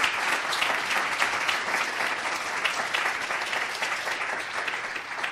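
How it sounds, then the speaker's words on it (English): A large audience at an annual Coretta Scott and Dr. Martin Luther King Jr. community conversation applauds with dense, continuous clapping that holds steady for several seconds, with no talking. "Why don't we give them a round of applause?"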